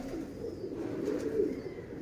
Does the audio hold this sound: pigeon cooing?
yes